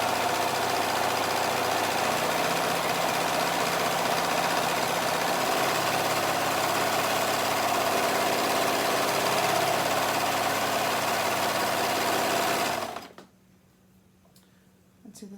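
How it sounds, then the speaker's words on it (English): A serger with a built-in blade stitches and trims away excess fabric on an elastic skirt, its motor running at a steady, fast hum for several seconds before stopping abruptly. "This serger's nice. It has a little blade in it right there where it's going to cut away all of this little"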